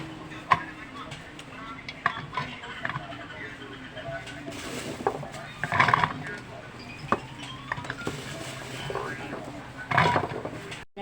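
Garlic being chopped in a small hand-operated food chopper makes irregular, close plastic clicks and clattering knocks, with a few louder bursts, while faint background voices murmur.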